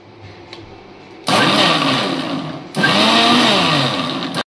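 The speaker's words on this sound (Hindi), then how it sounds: "इसको मिक्सी में दो बार आपको चलाना पड़ता है जिससे अच्छे से पूरा मिक्स हो जाए।" Mixer grinder blending a weight-loss shake in two loud, steady motor bursts, a first run then a brief pause and a second run that stops abruptly, with no talking.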